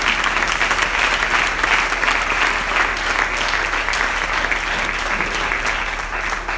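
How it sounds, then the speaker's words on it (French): Church congregation applauding during a Sunday service, steady sustained clapping from a crowd throughout, slightly fading toward the end. "Vous acclamez timidement."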